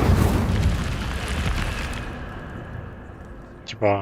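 The Incendio fire spell bursts in Hogwarts Legacy with a loud fiery roar that fades into a crackling, dying hiss, and a voice breaks in right at the end.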